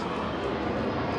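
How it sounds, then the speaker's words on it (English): An airliner flying overhead makes a broad, steady roaring rush that stays loud and even throughout, with no voices on top. "Aircraft passing by, folks."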